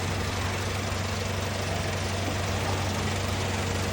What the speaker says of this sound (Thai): ตอนนี้เราก็จะรันเกียร์ไปเรื่อยๆ นะครับ